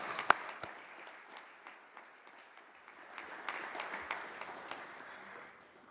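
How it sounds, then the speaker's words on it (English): A gala audience gives a 2017 graduate another round of applause, moderately distant clapping from many hands that swells and then fades, with a sharp close knock near the start. "Let's give him one more round of applause."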